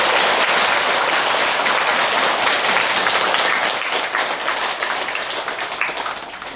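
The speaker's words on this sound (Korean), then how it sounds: "감사의 박수 부탁드리겠습니다." An audience at a Buddhist lantern-lighting dharma service gives sustained applause of thanks, dense and even at first, then gradually thinning and fading toward the end.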